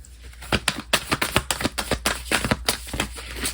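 A deck of cards is shuffled close up in a quiet indoor setting, a rapid run of crisp riffling clicks and slaps in an uneven rhythm with no talking.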